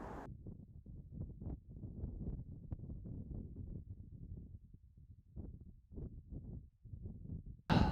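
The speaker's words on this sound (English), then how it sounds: "I think the wind has died down" Wind blows at Joshua Tree National Park, a low rumbling gusting noise that rises and falls in uneven bursts, faint and with no talk.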